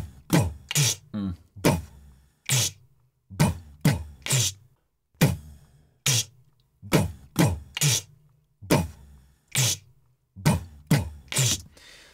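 Layered snare drum hits from a music production mix, sharp and punchy, repeating in short groups of two to four strikes with brief gaps, each crack bright and full-bodied over a low thump, played alone without talk.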